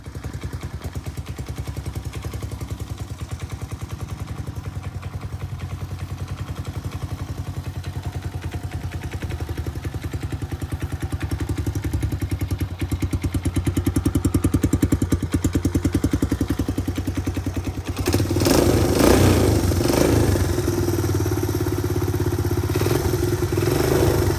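Several Honda CT110 postie motorcycles idling and then riding off, a loud, close, steady single-cylinder engine clatter that swells near the end as they pull away.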